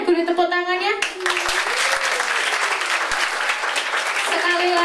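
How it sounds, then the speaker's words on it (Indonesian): Students and teachers at a high school student-council election event clap loudly after a short bit of amplified speech. Brisk, continuous applause follows, and a voice starts talking again at the close. "boleh tepuk tangannya"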